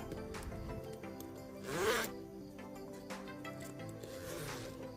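A zipper on a bag, jacket or trousers is pulled open and shut in a quick series of close, crisp zips, with one louder, longer rasp near the middle and more zipping toward the end.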